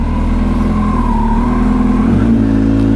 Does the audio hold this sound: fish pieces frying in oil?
no